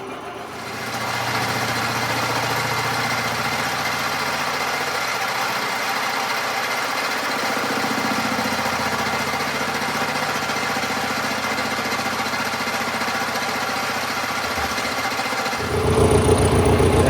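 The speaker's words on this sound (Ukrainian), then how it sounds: "Фреза сідає." A milling cutter resurfaces the hard face of a century-old blacksmith's anvil, a continuous loud grinding, chattering machine drone that holds steady for about fifteen seconds before shifting near the end, with no talk.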